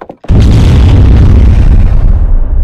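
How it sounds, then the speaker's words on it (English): A loud, close barrel explosion set off by a grenade in an Unreal Engine 5 scene: a sudden booming blast after a brief silence, then a long rumbling roar that slowly fades. "let's explode with the grenade"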